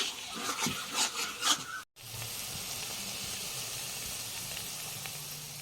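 Taro leaf curry (kochur shak) cooked with a fish head, stirred in a pan: a few scraping clatters of the spoon first, then a steady soft sizzle and hiss from the cooking greens.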